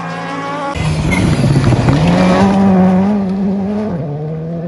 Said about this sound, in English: Racing car.